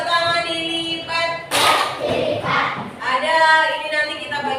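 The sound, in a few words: class doing the folded-hands clap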